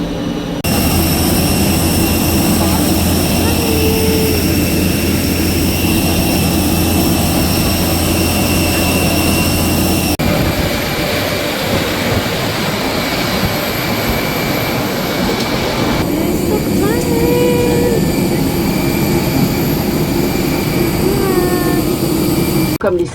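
Airplane jet engines roar loudly and continuously at an airport during boarding by the stairs, a steady whine and rumble that shifts in tone partway through, with a brief high chirp-like sound and faint voices nearby.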